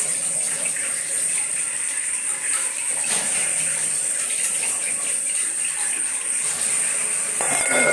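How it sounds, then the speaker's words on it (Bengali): Tap water runs steadily over spices being rinsed in a kitchen sink, a constant close hiss and splash with faint clinks throughout. "এখন ধুয়ে নেবো মশলাগুলো ধুয়ে সব উপর করে রাখবো"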